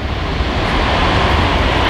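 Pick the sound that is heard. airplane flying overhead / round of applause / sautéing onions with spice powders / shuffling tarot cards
airplane flying overhead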